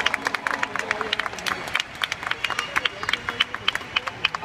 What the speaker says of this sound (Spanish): para quien pido un gran aplauso.